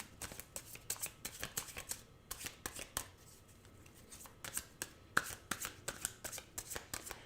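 Tarot cards are shuffled close by in a quiet room, giving a rapid series of crisp riffling flicks and soft slaps in irregular bursts with short pauses in between, and no talking.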